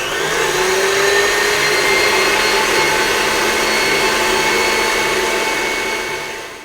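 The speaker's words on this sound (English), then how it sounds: "I'm going to whisk this on high speed until the mixture is very thick and frothy" A tabletop mixer whisks raspberry and almond sponge batter on high speed, a loud, continuous whirring drone that holds steady and then begins to wind down at the end.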